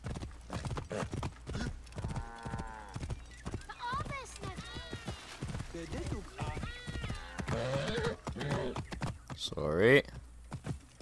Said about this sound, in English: Horse doesn't sound too happy with me.